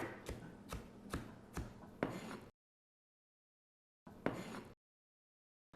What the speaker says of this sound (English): we're literally just gonna cut these into tiny little pieces